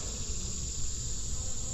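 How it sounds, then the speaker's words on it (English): Honey bees hum steadily and densely in an opened backyard beehive during a late-August inspection, a close, continuous drone with no talking. "The bees are being pretty calm right now"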